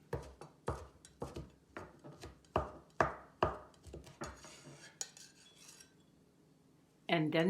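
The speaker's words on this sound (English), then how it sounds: "Next, mince the dry shrimp." A knife minces dried shrimp for dim sum turnip cake, striking the cutting board in a steady run of sharp, close chops that stop for a moment before a brief rustle at the end.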